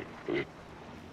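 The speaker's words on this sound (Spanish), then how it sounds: "Si suena a cerdo." A short, muffled pig-like grunt from a creature in Horizon Zero Dawn, one brief snort rising over a low game ambience.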